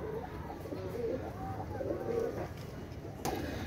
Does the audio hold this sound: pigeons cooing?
yes